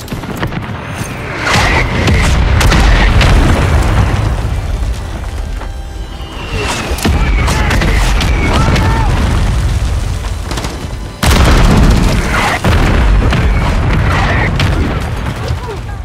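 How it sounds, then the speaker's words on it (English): Mortar strike explosions in Call of Duty: Modern Warfare III, a dense, loud barrage of booms and blasts rolling on continuously with sharp fresh impacts, mixed with battlefield clutter and game voices. "Mortar strike inbound."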